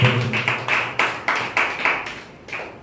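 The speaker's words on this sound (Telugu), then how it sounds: "చప్పట్లు కొడుతూ ప్రభునామాన్ని మహిమపరచు" A Sunday church congregation claps hands together in praise in a steady rhythm of about eight sharp claps, close and fairly loud before trailing off.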